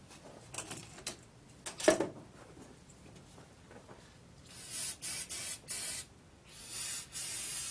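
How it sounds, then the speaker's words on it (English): Starting fluid sprayed into the engine of a barn-find Triumph Spitfire: several short hissing aerosol bursts, faint and scattered at first, then a run of louder, longer close spray blasts toward the end. "next I'm just going to spray a little more starting fluid in it"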